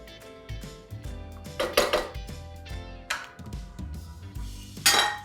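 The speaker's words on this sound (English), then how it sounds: "Stir it well on medium heat. Keep stirring." A utensil scrapes and clinks against a pan while paneer makhani tomato base gravy is stirred over medium heat, with repeated metallic knocks and rattles in an irregular rhythm, close and moderately loud.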